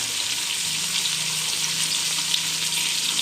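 Tomatoes sautéing in a pan for beef sinigang, giving a loud, even frying hiss that runs unbroken and close throughout.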